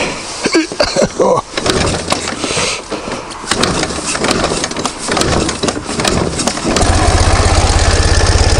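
A Ural motorcycle, an IMZ 8.103-40 Tourist, coughs through a start attempt amid handling noise, then catches and settles into a loud, close, steady idle with an even low rumble.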